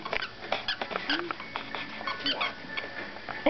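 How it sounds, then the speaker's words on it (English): A Shorkie dog chews and squeaks a squirrel squeak toy, giving short bursts of squeaks with soft patter and movement, while a person talks throughout nearby. "He's squeaking the squirrel."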